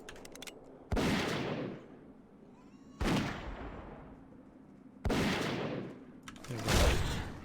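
Three sharp gunshots from a dwarf hunter's gun in World of Warcraft, evenly spaced about two seconds apart, each a loud crack with a decaying tail, followed by a further thump at the end.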